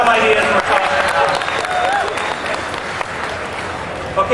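Convention panel audience at BlizzCon 2007 breaks into sustained applause, a dense, steady wash of clapping from a large crowd with some cheering mixed in, lasting throughout.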